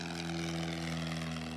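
A private jet on the runway at DeKalb Peachtree Airport gives off a steady, loud engine whine and roar that holds at an even level throughout, with no talking over it.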